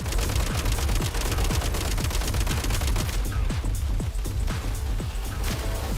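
Rapid gunfire during a boss fight in the Genshin Impact video game, a dense, continuous barrage of sharp shots and impacts filling the whole stretch at steady loudness.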